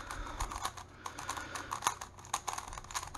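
A GAN Skewb puzzle cube is turned quickly, giving a dense run of sharp, clicky snaps and clacks in irregular bursts, close and without talk.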